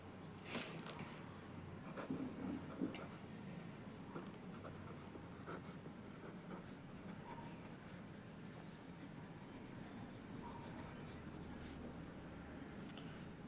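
A pen writing a math formula on paper, faint soft scratching strokes in a quiet room, a few slightly louder strokes early on, with no talk over it.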